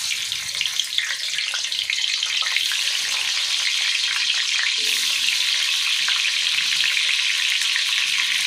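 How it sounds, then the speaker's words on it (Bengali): Turmeric-and-salt-coated potatoes fry in hot mustard oil in a karahi, giving a steady, close, dense sizzle that holds evenly throughout with no talk. "নুন হলুদ দিয়ে মাখিয়ে রেখেছিলাম আলুগুলো আমি দিয়ে দিচ্ছি কড়াতে"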